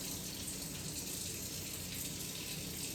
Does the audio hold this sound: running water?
yes